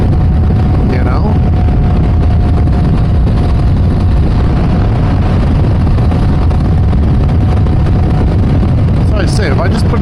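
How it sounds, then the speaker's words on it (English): Motorcycle engine revving steadily while the rider downshifts on a desert road ride, a constant droning rumble heavily mixed with rushing wind noise throughout, with no speech. "If I crank it up like that, I can hear the motor a little bit."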